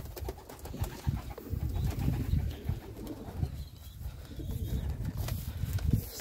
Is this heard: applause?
no